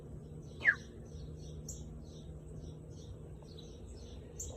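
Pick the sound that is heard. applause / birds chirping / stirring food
birds chirping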